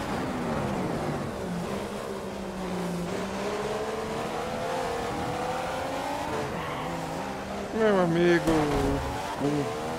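Racing cars lapping during a race, a steady engine drone with pitch rising and falling through gear changes and a louder car surging past near the end, under a commentator's voice.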